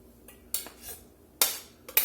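Food being plated for New Orleans-style barbecue shrimp with toasted bread, with several sharp clinks of dishes and cutlery: a few separate knocks, with a louder one near the middle and another at the end.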